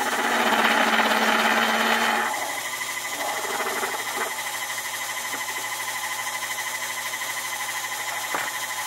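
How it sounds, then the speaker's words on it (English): Steady lathe whir with a high-pitched metallic cutting tone as it faces a steel drill rod, dropping after a couple of seconds to a constant motor hum with a few faint clicks. "Alright, let's start off by facing this drill rod."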